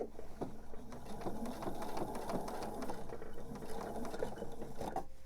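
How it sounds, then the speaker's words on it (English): A sewing machine stitches a quilt seam with a close, steady mechanical chatter and a rapid rhythmic needle clatter that continues without pause. "I would continue sewing down the length of this seam, piecing my rows together"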